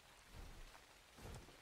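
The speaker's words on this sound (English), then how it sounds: "Oh, perfect. Rain." Rain falls in Ark: Survival Evolved on The Island map, a faint, steady patter and hiss with soft low rumbles swelling twice beneath it.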